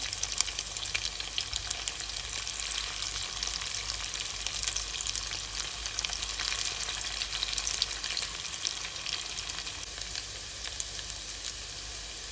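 Small fish frying in a pan, a steady broadband sizzle with crackling that holds evenly throughout, close and alone with no talk.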